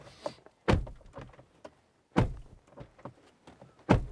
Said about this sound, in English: It's what our door slam sounds like.